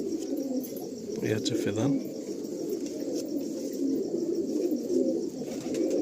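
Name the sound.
pigeons cooing in a pigeon loft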